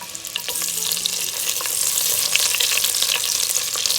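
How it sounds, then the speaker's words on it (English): Green chilies sizzle in a hot pan while moong khichdi is being cooked, a loud, close, continuous frying hiss with light crackles that grows slightly stronger toward the end. "Going to add green chilies,"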